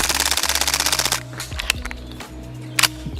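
A WE XM177 gas blowback airsoft rifle fires a rapid short burst of sharp, close, evenly spaced cracks, followed by quieter mechanical clicks and handling noises.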